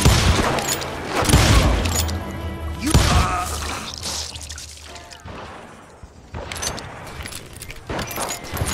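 Gunfire from the Wild West shooter Call of Juarez Gunslinger, with loud broadband bursts and booms clustered near the start and again in the later part, set over a busy game soundscape.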